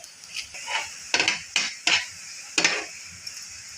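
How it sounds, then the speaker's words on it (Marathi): An egg paratha roasts in oil on a griddle over low heat: a faint sizzle sits beneath several short, sharp scraping and tapping bursts of a spatula. "आता आपण हा पराठा मंद आचेवरती थोडासा भाजून देणार आहोत।"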